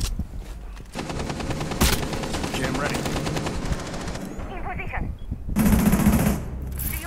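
Rapid automatic gunfire in Rainbow Six Siege, loud and close, comes in long bursts with short gaps and a heavy final volley. Someone talks over the shooting.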